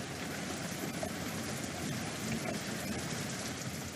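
Steady rain falls in a mountain forest, a soft, even hiss of drops with faint rumbles, continuous and fairly quiet, with no voices.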